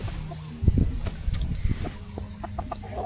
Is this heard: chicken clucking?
yes